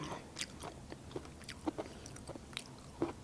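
Biting into and chewing wild mak duay kai fruit, with soft moist crunches and smacking bites spaced irregularly, close to the microphone in a quiet outdoor setting.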